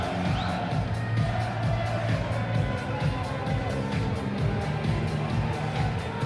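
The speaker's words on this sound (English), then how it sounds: "Michael van Gerwen takes the applause of the crowd" Crowd at a 2014 Premier League Darts night in Aberdeen cheering, whooping and clapping as Michael van Gerwen takes the applause after beating Adrian Lewis, a continuous roar that stays steady throughout.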